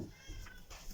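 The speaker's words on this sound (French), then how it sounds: "Ah, j'ai un de mes chats." A house cat gives a short, thin meow close by, with faint voice-like sounds around it indoors.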